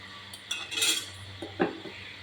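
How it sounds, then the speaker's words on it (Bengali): A dish set down over a pan of curry, a couple of light metallic clinks and a scrape of ceramic on metal, brief and close in a quiet kitchen. "তো এবার আমি একটা ডিশ ঢেকে দেবো।"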